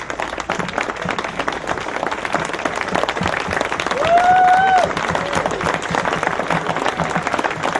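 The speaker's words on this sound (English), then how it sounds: "She's asking for a minute of applause in memory of señora Jeanne" Sustained applause from a crowd at a celebration honoring a woman named Jeanne, with a band present. Dense, even clapping runs steadily throughout, with a whistle or cheer rising briefly midway and swelling slightly before settling.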